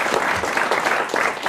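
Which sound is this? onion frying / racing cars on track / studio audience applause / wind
studio audience applause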